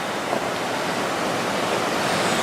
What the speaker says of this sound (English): Oh, water wheel there, look.